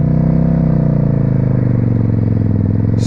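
A 2000 Suzuki Marauder VZ800 motorcycle engine runs loud and close with a steady, throbbing low rumble and a slight rise in pitch, continuous throughout.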